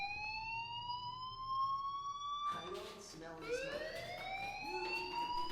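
A school fire alarm in Life is Strange wails as a rising siren tone that sweeps upward, then restarts and climbs again, loud and continuous, with voices talking over the later part.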